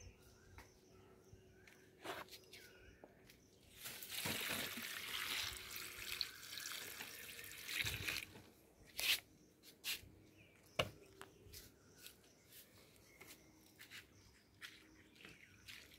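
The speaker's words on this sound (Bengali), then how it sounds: "এবার এর সাথে আমি একটু জল মিশিয়ে দেব।" Water splashes from about four to eight seconds as it is poured into a container of banana peels and chopped banana leaves. Soft handling taps follow in a quiet setting.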